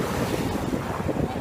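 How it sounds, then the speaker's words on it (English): Big ocean waves crash against the rocks at Venice Beach as a loud, continuous surf roar mixed with heavy wind buffeting the microphone. "giant waves keep hitting these rocks."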